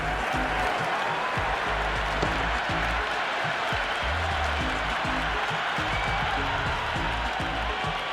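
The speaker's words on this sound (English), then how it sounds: "It's evident and ever so audible that the crowd is at near bursting point at today's play." A packed cricket stadium crowd at a T20 World Cup match between India and the West Indies roars and applauds without pause, a loud, dense wall of cheering and clapping from start to finish.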